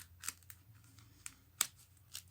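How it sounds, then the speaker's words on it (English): Cardboard board-game chits for a Barbarossa wargame being shuffled by hand: soft scattered clicks and rustles with a few sharper snaps, faint and close, with no talk. "We'll shuffle up the Germans."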